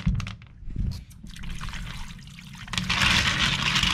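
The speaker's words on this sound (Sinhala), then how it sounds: "ගෙනාපු මට්ටි ටික මේ විදිහට වතුර දාලා ටිකක් හොදන්න" Clams are rinsed in water in a home kitchen, with splashing and trickling water close by, pausing briefly before a stronger pour at the end.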